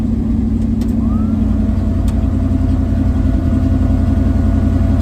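A carbureted project car's engine runs loud and steady at a low idle, its deep rumble continuous and close with no talk over it.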